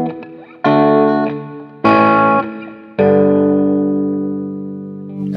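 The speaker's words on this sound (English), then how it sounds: "it's a really nice sounding reverb" Three distorted electric guitar chords through a Mooer Black Truck pedal ring out in turn, the last left to sustain and slowly decay in a wash of reverb, decay set about 30%.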